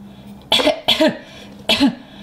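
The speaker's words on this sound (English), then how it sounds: "Peppa, you're coughing too." A cartoon pig character coughs three times, short raspy bursts spaced about half a second apart, close and clear with no other sound.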